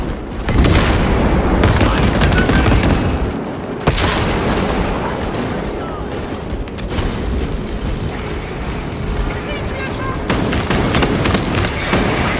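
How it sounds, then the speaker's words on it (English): Loud, dense game combat from Warhammer 40,000: Space Marine 2 with a krak grenade blast among booms and rapid gunfire, bursts repeating across the scene, and a voice speaking briefly over the din. "Deploying crack grenade."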